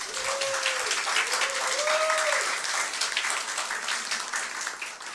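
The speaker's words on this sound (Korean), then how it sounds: "재선이지만 사선 같은 이종환 위원장님께 큰 격려 박수 보내주시기 바랍니다." Sustained audience applause at a Seoul debate forum on cable broadcasting, greeting the committee chairman; dense, steady clapping throughout with a faint voice briefly audible over it.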